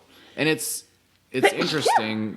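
A single sneeze from a person during a podcast-style conversation, a short loud burst close to the microphone, followed by a pause and then a voice speaking.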